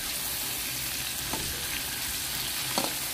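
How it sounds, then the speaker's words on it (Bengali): Fish fry lightly in oil in a pan, giving a steady, close sizzle with faint stirring scrapes and a couple of soft knocks, and no one speaking. "মাছগুলোকে আমি হালকা করে ভেজে নিব।"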